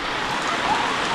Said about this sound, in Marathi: आज जोरातच पाऊस आला